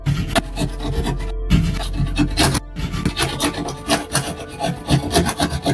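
Drywall is cut and trimmed by hand with a continuous rasping, scraping stroke, loud and close, with two brief pauses between passes and no voices.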